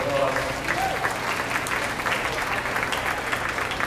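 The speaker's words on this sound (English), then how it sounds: "Let's give all of our finalists here in our senior division a round of applause." At a beef show, an audience applauds the senior division finalists with steady, dense clapping that carries on evenly throughout, a voice briefly audible over it.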